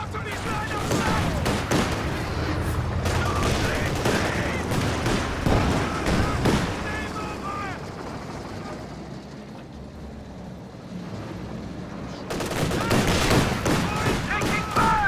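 Sustained battlefield gunfire and explosions in a real-time strategy game, a dense continuous wash of machine-gun bursts and booms that dips briefly before swelling again, with unit voice callouts over it.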